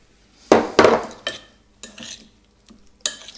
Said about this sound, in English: Now we mix it all together with the sauce.